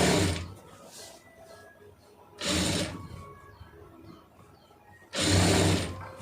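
A sewing machine stitching falls onto a saree runs in two loud, close bursts separated by quieter pauses with light handling of cloth.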